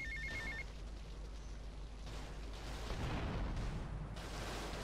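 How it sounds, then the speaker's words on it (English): A telephone rings in Grand Theft Auto: Vice City, a short electronic ring at the very start, heard under continuous game noise with loud rumbling bursts like gunfire or explosions. "Okay, I guess the phone call can wait."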